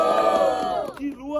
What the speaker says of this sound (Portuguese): Quem achou que deu Samuel? Barulho, mão pra cima